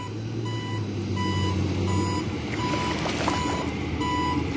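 A tow truck sounds evenly spaced reversing beeps, steady and moderately faint, over a low engine rumble and outdoor background noise.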